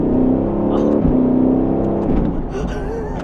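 An Audi R8 supercar engine revving hard from inside the cabin, a loud, sustained droning roar that rises and shifts in pitch through gear changes, with a brief burst of higher tones near the end.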